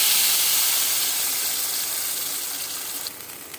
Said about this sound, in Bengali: তেলটা গরম হয়ে গেছে, আমি এই বাটা মশলাটা দিয়ে দিচ্ছি।